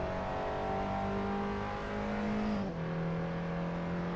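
Peugeot 206 GTi race cars in the Assetto Corsa video game at the Nürburgring hum at a steady engine pitch that drops sharply once mid-clip as a gear changes, then holds low and continuous, loud and close with no talk.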